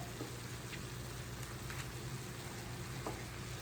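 Philly cheesesteak meat fries in a pan with a steady, soft sizzle and faint crackle, quiet and continuous, with occasional small ticks of movement.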